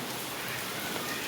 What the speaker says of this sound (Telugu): వర్షాకాలంలో ఫస్ట్ టైం వర్షం సౌండ్ వచ్చేలాగా పడుతుంది